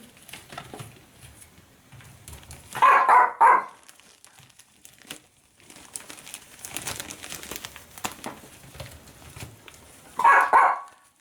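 A dog barks in two short bursts a few seconds apart, loud and close, with soft crinkling and rustling between them.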